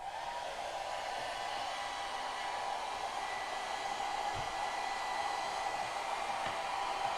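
A hair dryer drones steadily for the whole stretch, a constant airy whoosh with a faint motor hum, close and even in level, with no voices over it.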